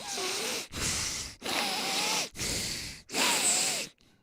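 A voice imitates a congested, stuffed-up cat breathing through its nose, with four or five drawn-out nasal wheezing breaths in a steady rhythm, fairly close and clear.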